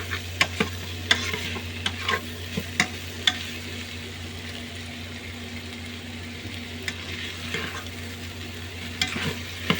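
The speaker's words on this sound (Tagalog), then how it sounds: "Umikos-mikos mo." Food sizzles in a frying pan while being stirred, with a continuous close frying hiss broken by repeated scraping clicks of the utensil against the pan.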